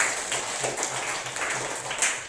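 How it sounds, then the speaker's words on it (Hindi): Schoolchildren in a classroom clap together for a classmate, a loud, dense patter of hands that keeps going without a break for a couple of seconds. "ताली बजाओ अमित के लिए।"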